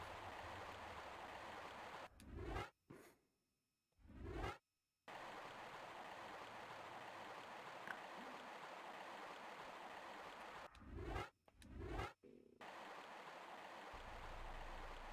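A steady rushing waterfall in the video game Tomb Raider: Remastered, a constant broadband roar that cuts out a few times into brief silences, with short swooshing bursts around the breaks before the roar resumes.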